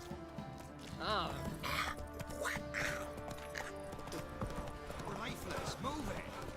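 Horse hooves clip-clopping at a steady walking rhythm in The Witcher 3 video game, mixed with a whinny, game music and character voices speaking over it.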